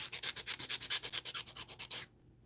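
Rhythmic rasping of a coarse 100/180 grit nail file across polygel nails, about seventeen quick even strokes close up, then it stops.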